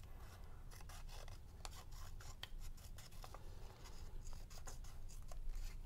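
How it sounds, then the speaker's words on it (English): Scissors cutting a circle out of paper for a Halloween pumpkin bookmark craft, a close, steady run of rasping snips and rustling paper scrapes with no talking. "Cut out the circle,"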